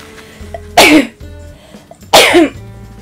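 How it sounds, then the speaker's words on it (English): Two loud, sharp sneezes about a second apart, from a person with allergies, each a sudden burst that quickly fades with a quiet room in between. "Definitely about to sneeze."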